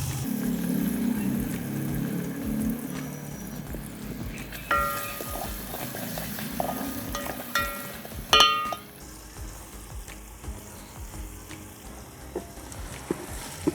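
Two medium-sized onions go into a hot pan for samosa chaat gravy, a soft frying sizzle running underneath, broken by several sharp clinks and scrapes of a utensil against the pan.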